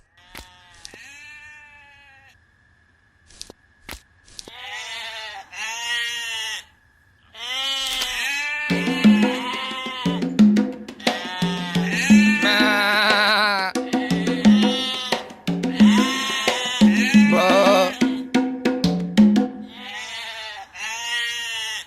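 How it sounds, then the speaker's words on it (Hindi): Goats bleat in a dubbed Hindi film scene, repeated nasal cries rising above ongoing dialogue and background sound, fairly close and loud. "जाकर देख तो बकरियां क्यों चिल्ला रही हैं।"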